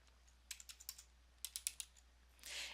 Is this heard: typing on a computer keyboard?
yes